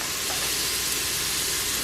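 Chopped garlic and onions sautéing in an Instant Pot for chicken and wild rice soup, a steady, even hiss of frying close by with no other sounds.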